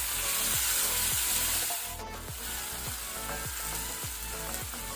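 Chopped tomato goes into a pan of golden-fried onions for bitter gourd palya, and a steady close sizzle follows, broken by regular scraping strokes of a spatula about twice a second.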